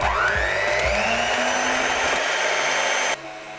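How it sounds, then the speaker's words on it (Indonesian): A loud, steady electric mixer whirs continuously at medium speed mixing milk bun dough, with a rising whine early on, then drops to a lower hum near the end. "Mixer dengan kecepatan sedang asal sampai tercampur rata."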